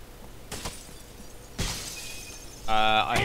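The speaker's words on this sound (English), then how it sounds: "I hear people smashing glass." Glass smashes in Rainbow Six: Las Vegas 2 during a Terrorist Hunt on the Streets map: a few sharp, loud shattering crashes spaced over a few seconds, ending with a ringing tone and more breaking.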